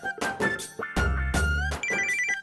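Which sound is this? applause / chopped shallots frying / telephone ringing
telephone ringing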